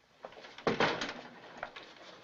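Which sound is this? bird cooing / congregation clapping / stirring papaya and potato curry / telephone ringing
bird cooing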